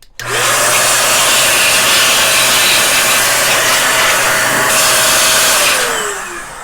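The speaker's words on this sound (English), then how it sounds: "using this duster, I don't have to dismantle the grinder" Compressed-air duster blasting into the built-in burr grinder of a Breville Barista Express espresso machine, a loud steady hiss that runs unbroken for about six seconds before tapering off.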